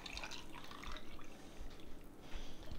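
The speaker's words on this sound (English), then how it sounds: "we're just going to top it off with some water." Water pours from a tap into a mason jar packed with radishes for home canning, a soft steady splashing and trickle, close and quiet.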